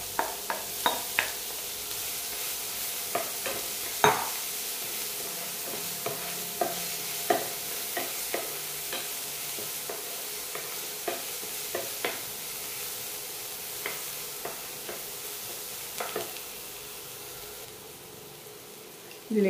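Finely chopped onion frying in a pan for honey garlic chicken, a soft steady sizzle under regular spoon taps and scrapes against the pan, close and moderate in level.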